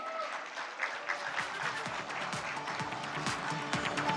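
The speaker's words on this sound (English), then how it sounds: "I think we give them a loud round of applause." An audience at the Southern Rising Summit conference hall applauds in steady, dense clapping at a moderate distance, sustained throughout with faint crowd murmur beneath.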